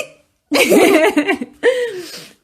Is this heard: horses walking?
no